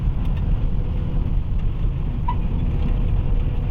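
Heavy rain drums steadily on a moving car on the road to a village, a dense, even wash of rain and road noise with a low engine rumble underneath, loud and unbroken throughout.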